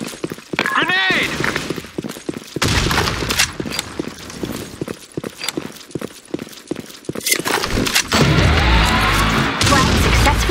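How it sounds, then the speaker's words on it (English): A grenade explosion and gunfire in the online shooter Blackshot: a chaotic, dense mix of sharp cracks, bangs and clattering impacts, ending in a loud sustained blast and debris, with voices calling out over the action. "Grenade!"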